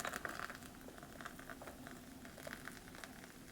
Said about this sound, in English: then I'm just gonna pour this on top